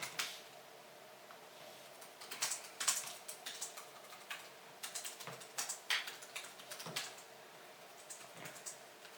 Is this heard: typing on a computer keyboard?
yes